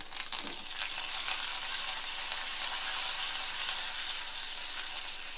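Mustard seeds, dal, dried red chillies and curry leaves crackle in hot oil for a tempering, a dense, even sizzle that stays loud and close throughout with no talk.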